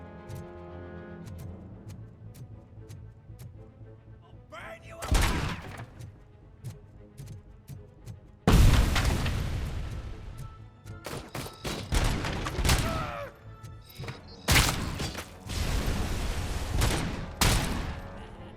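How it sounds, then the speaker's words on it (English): Enemy grenades and gunfire in the shooter RoboCop: Rogue City: loud, close explosions and sustained bursts of shots arrive in waves, with a quieter stretch between blasts. "They are all spamming grenades quite a lot."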